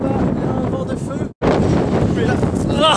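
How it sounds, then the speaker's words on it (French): Strong wind on a road near Taos buffets the microphone in loud, continuous roaring gusts, broken once by a brief dropout, with faint talk partly buried beneath it. "il y a un vent de feu"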